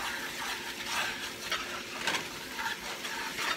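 Sausages and flour are stirred in a hot pan, making a continuous soft sizzle with scraping swishes of the spoon, close and steady with no talk.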